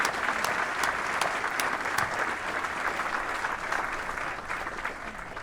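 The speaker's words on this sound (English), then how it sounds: "please join me in a round of applause for all our distinguished visitors and guests" An audience at a US Army change of command ceremony for USAACE and Fort Novosel gives a sustained round of applause, dense and steady clapping from a large crowd throughout.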